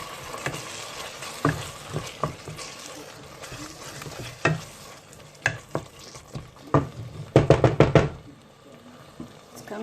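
Lasagne sauce stirred in a pan with black pepper, spoon knocking and scraping the pan in uneven bursts, a cluster of sharp clanks near the end, over a low sizzle.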